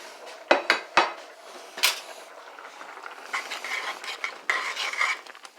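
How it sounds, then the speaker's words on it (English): Risotto being stirred in a lidded pot: a few sharp metal clanks of a spoon against the pot, then softer scraping and gentle sizzling stirs, close and moderately loud, with no speech. "Give it a little stir."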